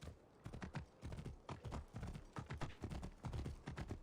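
Horse hooves in the video game Assassin's Creed Origins, a faint rhythmic clip-clop of a trotting mount sounding close, steady and alone, without any talk.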